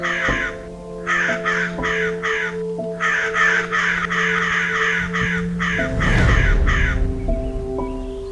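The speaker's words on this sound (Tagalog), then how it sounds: "Siya si Waray, ang puting uwak na tila mas friendly." Repeated harsh crow caws in bursts, several crows calling over a steady musical background, fairly close and loud, in Misamis Oriental, Philippines.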